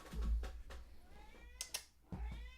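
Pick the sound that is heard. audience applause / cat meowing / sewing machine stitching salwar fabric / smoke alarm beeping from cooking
cat meowing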